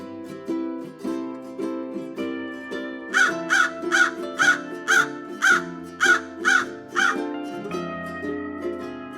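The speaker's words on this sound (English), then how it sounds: "Crow." Crow cawing loudly and close, a rapid series of about nine harsh, evenly spaced caws layered over a melodic instrumental background.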